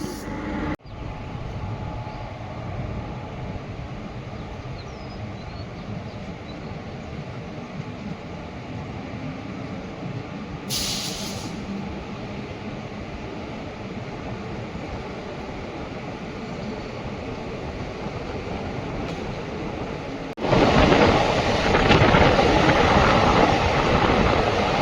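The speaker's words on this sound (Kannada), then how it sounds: "ಇವಾಗ ನಮ್ಮ ಟ್ರೈನ್ ಬಂದೈತ್ರಿ ಈಗ ಮೆಲ್ಲತ್ತೂರ್ಗೆ." A train pulls into Melattur station on Kerala's Shoranur-Nilambur line with a long, steady rolling rumble and rail noise that swells louder toward the end, with no talking.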